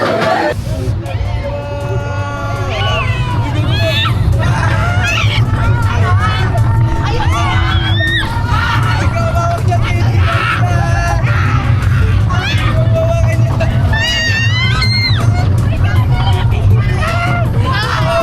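Riders on an amusement park ride scream in repeated rising and falling shrieks over a dense crowd hubbub, with people shouting and talking nearby throughout.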